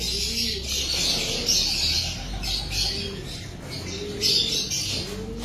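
Pigeons in a fancier's loft cooing and calling in a steady, overlapping chorus, with soft rustling and occasional louder squawks close by.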